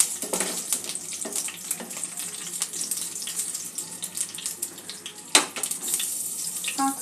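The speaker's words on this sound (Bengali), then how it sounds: "ফোড়নটা তেলের মধ্যে দিয়ে দেব। ফোড়নটা একটু ভেজে নেব।" Panch phoron spices crackle and fry in hot oil with a steady bright sizzle and scattered pops, one sharper pop near the end, with no talking.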